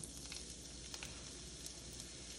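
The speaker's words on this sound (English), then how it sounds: "And while these peppers and onions are cooking" Peppers and onions sizzle steadily in a hot pan, a dense even hiss with small scattered pops and crackles and no talking.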